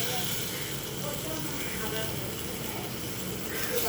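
Fish pieces going into hot spiced tamarind fish curry, a steady broadband sizzle and hiss filling the whole stretch at an even, moderate level with faint background voice.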